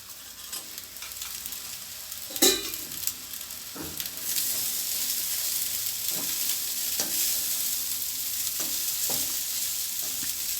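Cooked rice being stirred into fried egg in a hot pan for egg rice, a constant sizzle and frying hiss broken by several scraping spatula strokes, close and fairly loud.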